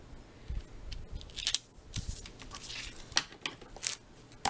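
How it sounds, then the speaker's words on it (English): Scissors snipping through white paper for a scrapbook layout, a string of crisp, irregular close-up cuts with soft paper rustles between them, quiet and without talk. "just cut the paper down as I need to."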